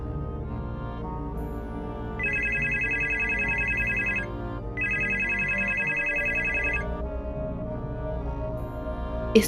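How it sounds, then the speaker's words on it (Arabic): A telephone rings in a Roblox horror game movie, two long electronic ringing bursts over steady background music, fairly loud and close, with no talk during the rings. "الصوت جاي من تليفون تاني وهو في الأوضة دي."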